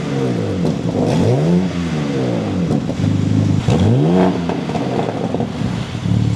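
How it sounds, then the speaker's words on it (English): The inline-six twin-turbo engine of a 2025 BMW M3 Competition with quad exhaust revs up sharply twice, climbing and falling in pitch, loud and close with no talking. "What you just heard was the 6-cylinder inline twin-turbo engine"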